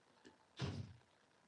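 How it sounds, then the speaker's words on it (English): A cat jumps against a door indoors: a soft tap followed by a louder dull thump with a brief rattle, faint and a little distant in an otherwise quiet room. "I think the cat's jumping at the door"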